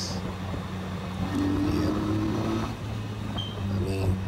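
A 2019 Jonway YY350-9a 350cc motorcycle ridden on a freeway, a steady engine drone with rising and falling tones under heavy rushing wind noise, heard close from the rider's position.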